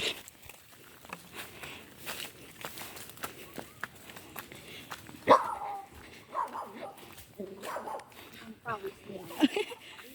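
A dog barks and yips in short bursts nearby, mixed with people talking over it.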